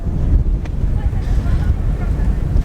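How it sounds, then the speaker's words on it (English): Steady coastal wind at Delphi, Greece, roars against the microphone with a constant low rumble, loud and unbroken throughout. "it's quite windy here"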